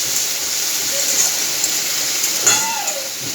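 Ginger-garlic paste hits a hot pan for a fish-head lentil dish, giving a steady close sizzle and hiss with a brief sharper spurt midway.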